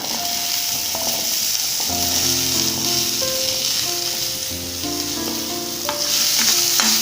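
Garlic and small shallots fry in a pan for cabbage chutney, a loud, continuous sizzle running throughout with faint tonal hum beneath and no voices.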